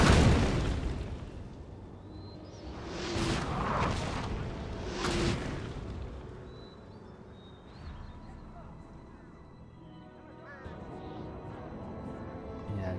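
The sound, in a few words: cannon fire in the video game Napoleon: Total War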